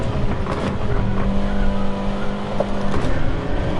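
Race car in Gran Turismo 7 droning steadily at high revs with a constant engine tone, a faint tyre scrub as it brakes for a corner, loud and continuous with no voices.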